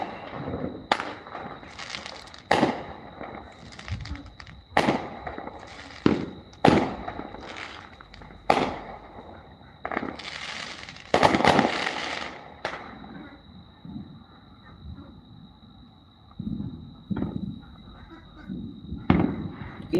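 Fourth of July fireworks burst at a distance in irregular bangs and crackles, some louder and closer, with a steady high tone running underneath.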